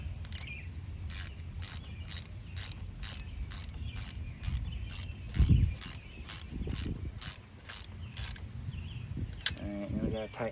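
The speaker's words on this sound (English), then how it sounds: "Get the ratchet on it." A ratchet tightens nuts on the fuel pressure sensor of a 2015 Buick Verano, producing a long, even series of close, sharp clicks, with some low handling thumps underneath.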